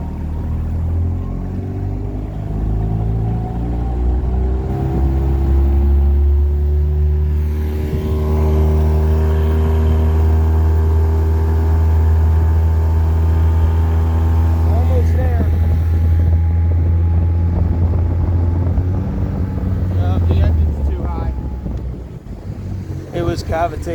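A Donzi motorboat engine with two people aboard accelerates on open water, its loud droning tone climbing steadily in pitch as it pushes toward planing, with wind buffeting the microphone throughout.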